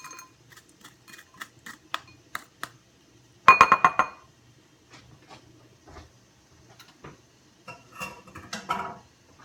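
Drained pancetta for carbonara is tipped into a bowl, producing light clinks and taps of utensil against the dish, with a brief cluster of sharper clatter midway and softer scraping later, close and fairly quiet.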